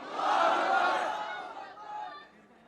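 A hall audience at an Islamic lecture answers a takbir call with a loud massed shout of Allahu Akbar. The swell peaks early, then fades with a smaller second surge.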